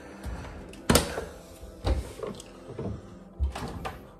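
Empty drawers in a newly rented condo apartment in Kharkiv, Ukraine slide and bump shut in several separate knocks and rattles, close by, with no voices.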